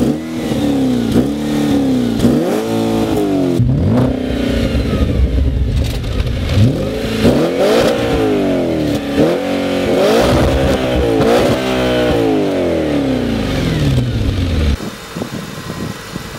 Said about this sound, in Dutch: Ik zal nog heel eventjes een beetje gas geven, zodat u kunt horen wat het is.